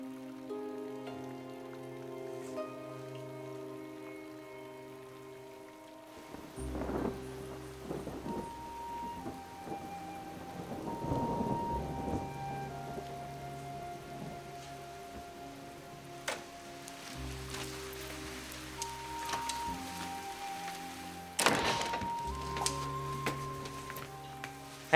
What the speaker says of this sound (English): It's really raining hard out there, huh?